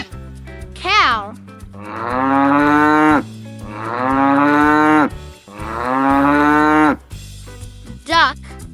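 Three long, loud cow moos, each drawn out for about a second, ring out one after another over cheerful nursery-rhyme music with brief whooshing effects at either end.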